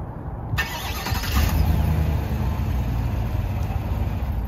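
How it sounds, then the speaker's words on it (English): A 2021 Chevy Silverado 1500 LTZ pickup engine turns over on remote start and settles into a steady idle, heard alone at moderate distance with no talking. "To remote start the truck, just go ahead and click on the lock button and then hold down the remote start button."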